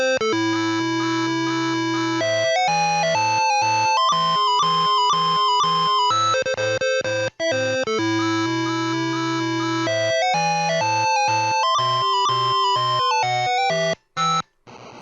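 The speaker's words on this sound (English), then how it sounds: "The cartridge version has different intro music" Intro music from the TI-99/4A cartridge game Arcturus, bright square-wave chip tones playing a brisk melody over a pulsing bass line, loud and continuous, ending in a few short staccato blips.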